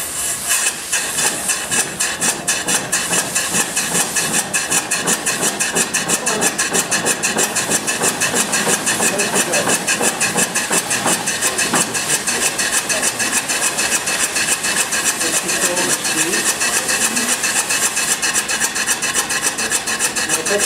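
Restored steam engine driven by compressed air runs with a steady rapid hissing and chuffing rhythm, loud and continuous, with fast mechanical ticking under the rush of air.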